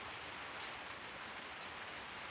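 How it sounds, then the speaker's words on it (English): Steady rain falls outside a workshop, a continuous even hiss of drops on surfaces with no pauses, moderately quiet and heard alone. "It's kind of like a rainy day here."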